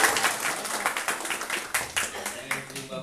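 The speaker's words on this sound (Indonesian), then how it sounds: "Tepuk tangan buat" Scattered clapping from an audience at an MC and communication skills training session for company employees, a few uneven rhythmic claps rather than a full ovation.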